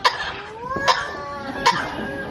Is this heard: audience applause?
no